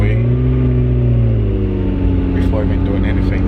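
McLaren sports car driving and accelerating, its engine a loud steady drone with rising harmonic tones as it pulls forward, heard close from inside the car.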